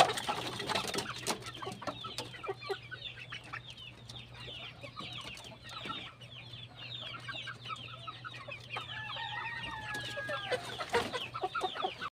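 Rhode Island hens and Asil cross chickens clucking in a steady scatter of calls, several birds near and far with occasional sharper squawks, low hum behind them.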